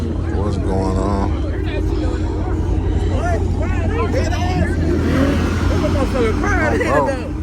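A Dodge Hellcat revs loudly at a crowded Chicago car meet, its engine roaring and rising in pitch through several blips while people chatter and shout nearby.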